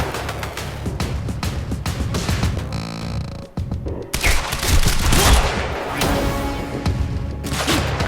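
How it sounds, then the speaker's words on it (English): Loud, heavy gunfire from a one-hit-kill gun in Quantum Break rings out in rapid bursts and booming shots, with a short muffled pause midway before another dense volley. "Damn, this gun is good! It's a one-hit kill weapon."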